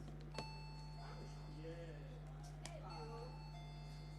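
A quiz team's buzzer bell at a tertiary business knowledge contest gives two sharp single rings, a couple of seconds apart, over room hum while a voice talks in the background.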